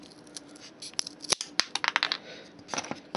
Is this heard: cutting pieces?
yes